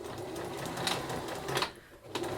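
A sewing machine stitches closed a gap at the bottom of a drawstring bag lining, giving a continuous close rattling hum with a few brief louder surges.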